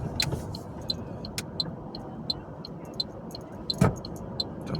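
Inside a car moving through city traffic in Ghent, a steady low engine and road rumble runs throughout, with a regular faint ticking like an indicator and a brief knock partway through.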